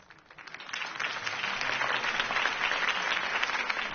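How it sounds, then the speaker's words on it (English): In a video game, a crowd claps steadily, the applause swelling quickly from a few hands into a full, sustained ovation that holds at an even level. "could have heard that applause"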